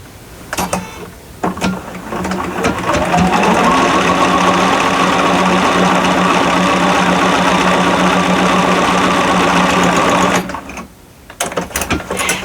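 A sewing machine stitches fabric in a loud, continuous mechanical whir that runs unbroken for about nine seconds, framed by a few short clicks and handling noises before it starts and after it stops.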